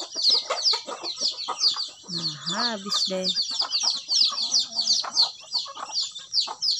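Chickens cluck and call at feeding time in a morning yard, repeated short clucks close by over a steady backdrop of chirping birds, with a person talking briefly in between.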